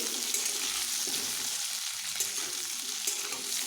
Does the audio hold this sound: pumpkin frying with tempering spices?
yes